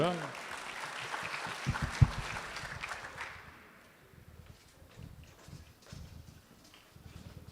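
Audience at a live-streamed NSRA event claps for a speaker, a moderate burst of applause in the first few seconds that fades out, followed by quieter room noise and scattered speech.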